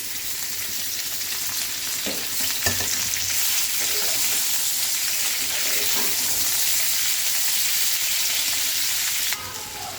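Shelled broad beans (chikkudukaya) frying in a pan give a continuous close sizzle, with a few clinks and stirring scrapes scattered through it, and it drops off abruptly near the end.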